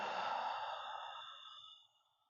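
One soft exhaling breath during gentle yoga practice, airy and close, gradually fading away over about two seconds with nothing else audible.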